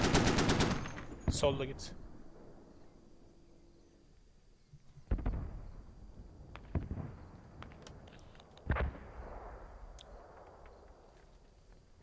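Gunfire in a military shooter video game: a loud opening burst of rapid automatic fire followed by several sharp single shots and short bursts spaced out, with game voices and commentators talking.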